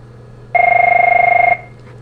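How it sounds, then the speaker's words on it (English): A telephone rings once in a steady two-tone electronic burst of about a second, clear and close, over a quiet room hum. "it's just the phone."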